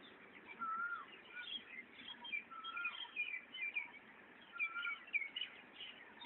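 Small birds chirp and twitter in a steady, overlapping chorus, short bright calls coming in repeated bursts over a soft outdoor background, fairly distant and moderately quiet.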